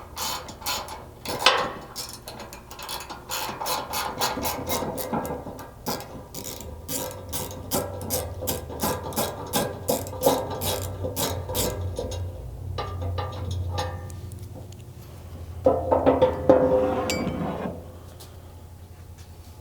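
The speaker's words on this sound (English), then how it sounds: "you're just going to need a 10mm socket. You're going to be removing this small bolt back here." A 10mm socket ratchet works a small bolt loose from a Ford Bronco bumper, with close, crisp rapid clicking in repeated bursts and short pauses between strokes, and no talking.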